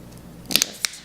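Asparagus spears snapped by hand in a kitchen: two quick crisp cracks close together, then a third sharp snap a moment later, close and alone with no talking.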